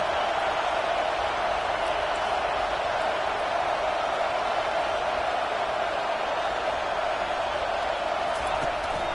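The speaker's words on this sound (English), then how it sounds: "This crowd, full throat, splitting the eardrums and letting them know it's going to be a long day." A football stadium crowd roars at full throat, a dense, loud, unbroken wall of noise that holds steady throughout with a voice underneath.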